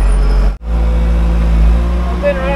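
A bulldozer's diesel engine running close by, a loud steady low rumble that briefly cuts out, then resumes, with a voice talking over it near the end.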